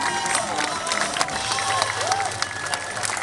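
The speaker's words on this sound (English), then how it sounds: "Everybody, give a nice round of applause." Street show audience clapping and cheering in a round of applause outdoors, a busy crowd wash with scattered whoops, moderately close.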